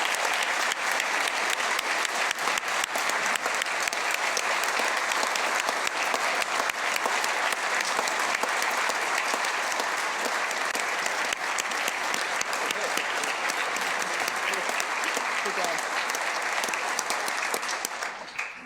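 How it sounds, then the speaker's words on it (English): Sustained, dense applause from an audience at a South Dakota state budget event, steady and even for nearly nineteen seconds before tapering off at the end. "Would you all mind giving Commissioner Jim Terwilliger and his team a round of applause for their fantastic work?"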